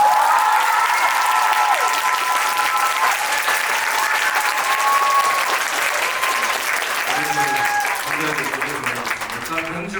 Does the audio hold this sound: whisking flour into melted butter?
no